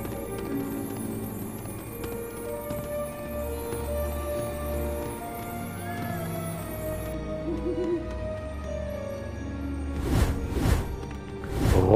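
An owl hoots within the LEGO Harry Potter video game, set amid a busy game soundscape with music and ambient effects, followed near the end by a couple of louder thumping bursts.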